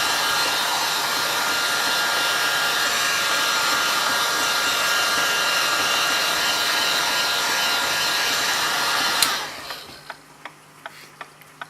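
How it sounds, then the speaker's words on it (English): A hair dryer on low blows with a steady whooshing roar, evaporating shellite during a Toshiba RC-691F flip clock service, then cuts off, leaving a few sharp clicks and taps in the quiet. "And then get our hairdryer on low"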